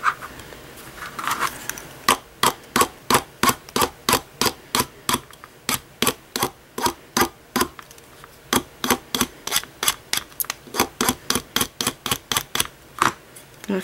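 Wire-wrapped bead ring being hammered on a metal ring mandrel: a long run of sharp, evenly spaced metallic taps, about three per second, close and clear with no talking.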